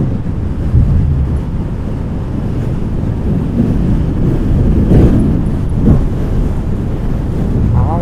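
Strong wind buffets a motorbike rider's helmet on a high coastal mountain pass at Cà Ná, Ninh Thuận, a loud continuous low roar with gusty surges throughout and no speech.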